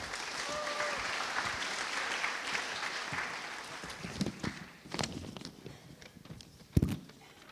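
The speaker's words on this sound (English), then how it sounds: "Please welcome Sang-uk with a big applause." Audience applause at an orientation event, a fairly faint wash of clapping from a crowd that gradually thins into scattered individual claps and a few footsteps.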